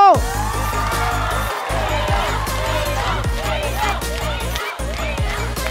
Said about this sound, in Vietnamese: Một tràng pháo tay cho D-Lo.